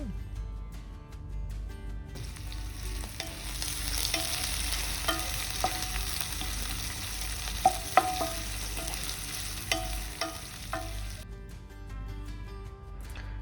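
Sliced onions and cumin frying in a pan, a steady hiss of oil that starts suddenly and runs for several seconds, with intermittent spatula knocks and scrapes, close and without speech.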